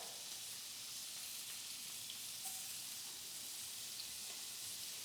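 Onions fry in butter with ostrich steak, a faint, steady sizzle and hiss from the pan throughout, quiet and even with no voices.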